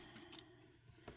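Small scissors snipping fabric quilt binding, two faint, brief clicks spaced about a second apart in a quiet room.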